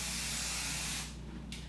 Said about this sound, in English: I'm going to spray a light layer of this spray on my hair